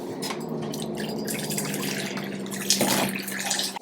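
Water from washed grapes drains and trickles steadily into a sink, a close, continuous splashing flow with a few brief drips and no talking.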